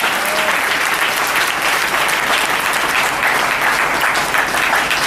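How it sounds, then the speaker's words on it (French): Loud, sustained applause fills a church as the congregation claps harder in praise, a thick wash of many hands that stays strong and even throughout. "Plus fort, acclamons plus fort pour le Seigneur Jésus-Christ de Nazareth."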